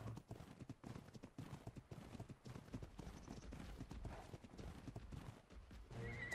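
Quiet horse hooves clip-clop in a steady rhythm in a video game, along with a horse's neigh. The creature is an Equus being tamed, and the sound is faint and fairly constant throughout.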